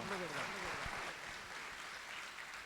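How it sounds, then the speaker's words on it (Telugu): A church congregation at an evangelical anniversary service claps together, a dense, steady wash of applause filling the hall right after a brief voice at the start. "చప్పట్లు కొడదాం."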